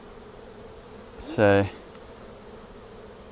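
Honey bees swarming thickly on a hive frame give a brief, loud, close buzzing burst over quiet background hum, with a short spoken word just before it.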